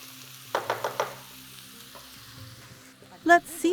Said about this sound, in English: Stir the ingredients again. Peppers do not take much time to cook.